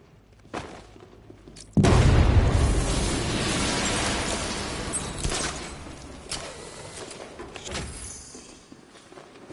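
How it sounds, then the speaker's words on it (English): A loud explosive detonation in a Batman video game erupts with a heavy low boom, then a long rumbling, crackling tail of debris that slowly fades, with a few later thuds. "I'm not far enough away to detonate the explosive."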